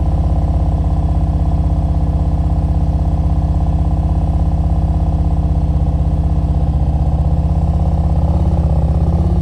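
A motorcycle engine runs at a low, steady throttle during advanced slow-speed riding practice, giving an even, close, continuous drone. A slight change in tone comes near the end. There is no talking.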